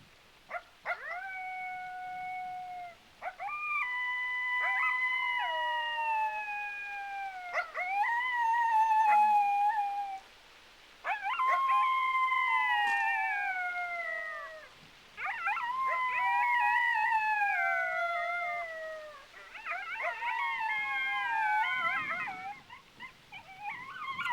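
Coyote pups howl in a series of rising and falling wavering cries, several overlapping voices in distinct bursts separated by short pauses, fairly loud against a quiet outdoor background with no talking.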